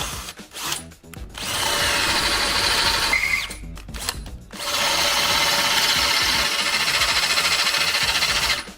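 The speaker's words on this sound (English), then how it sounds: "bore a couple of holes to mount the diverter up here in the arm" A power drill bores holes into a tractor loader arm to mount a hydraulic diverter valve, running in long loud bursts with brief pauses and a short pitch change between them, no talk.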